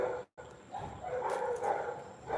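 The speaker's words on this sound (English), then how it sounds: "Dogs are barking at the end of our street here." Dogs barking at the far end of a residential street in the Philippines on a sunny morning: distant, indistinct barks mixed into steady outdoor background noise, with no one talking.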